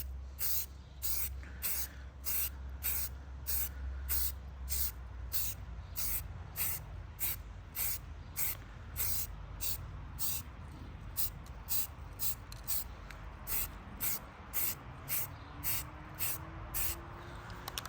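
Short repeated bursts of an aerosol spray can laying a tan base coat onto a gun, about two dozen hissing puffs in a steady rhythm, close and fairly loud, with a low rumble underneath and no talk.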